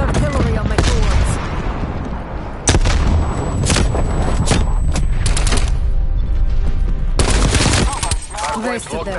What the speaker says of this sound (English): TACOM, get artillery on my coordinates.